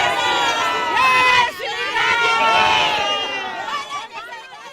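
A dense crowd of devotees shouts slogans and chants outside a hotel in Patna, loud overlapping voices and cheers forming a continuous roaring babble throughout.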